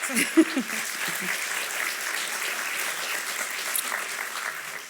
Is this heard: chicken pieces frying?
no